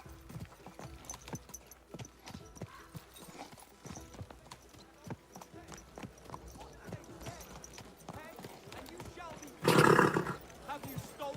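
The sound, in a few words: horse hooves clip-clopping, from video game Kingdom Come Deliverance 2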